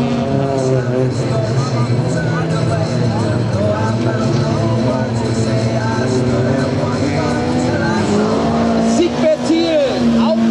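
Autocross race cars at a Mölln meet roar to the finish line, engines droning loud and steady throughout, with a commentator speaking over the engine noise.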